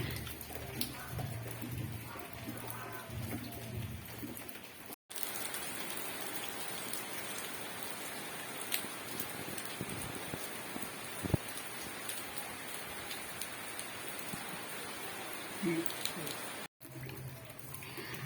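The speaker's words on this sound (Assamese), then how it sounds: "আজি যোৰহাটৰ বতৰ ডাৱৰীয়া, পুৰা বৰষুণ দি আছে।" Steady rain in Jorhat patters and hisses continuously on surfaces, a dense, even wash of drops with occasional louder splashes and faint birds in the distance.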